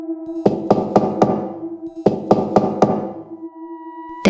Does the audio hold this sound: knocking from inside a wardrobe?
yes